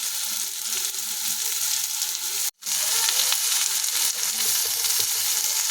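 Potatoes fry in a pan with a continuous loud sizzle, broken once by a brief moment of silence before the hiss resumes.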